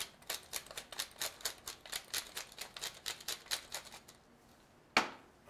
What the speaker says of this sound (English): and a little fresh cracked pepper